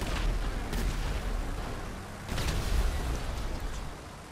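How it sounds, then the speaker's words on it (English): Explosions in the video game GTA V Online, two dense booming bursts with rumbling tails, loud and close, with no talk over them. "This thing can take a fair few explosions, I reckon."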